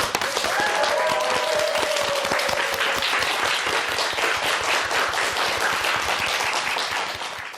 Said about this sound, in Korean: 여러분 큰 박수로 표영호 씨의 강연을 청하겠습니다